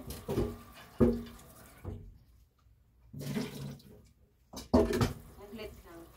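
Tap water runs in short, splashy bursts while something is washed by hand, stopping and starting several times at close range.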